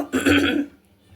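A single short cough, close and fairly loud, followed by quiet.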